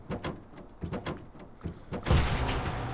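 A garage door in Farming Simulator 19 clunks a few times, then rolls open with a sustained mechanical rumble, close and moderately loud.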